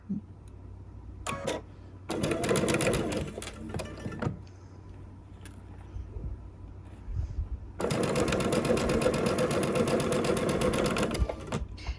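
A sewing machine pieces quilt blocks together in two rapid, close stitching runs, a short one and a longer one, separated by quiet pauses with faint handling clicks.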